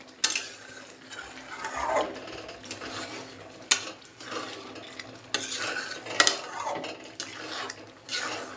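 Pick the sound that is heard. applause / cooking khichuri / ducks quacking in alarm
cooking khichuri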